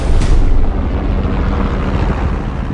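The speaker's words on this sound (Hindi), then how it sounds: "एनीवे, हेलीकॉप्टर लैंड करो।" A helicopter in flight in a film scene gives a loud, continuous broadband roar with a deep rumbling low end, steady and close throughout with no voices.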